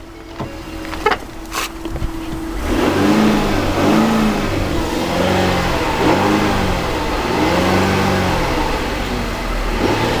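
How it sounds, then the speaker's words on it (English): A Ford Flex with a 3.5L EcoBoost engine suffering repeated failure and oil smoke: after a few clicks, the engine is revved in several rising and falling pulls, loud and close, with no talking. "If I rev it up, let's see what happens here."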